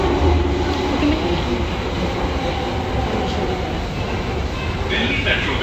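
Delhi Metro train riding along, a steady loud broadband rumble of the carriage running continuously throughout, with faint voices beneath the noise.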